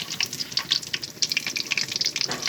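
Eggplant fritters (beguni) frying in hot oil in a home kitchen, a bright crackling sizzle with bursts of spattering as the pieces are flipped, close and continuous, no voices.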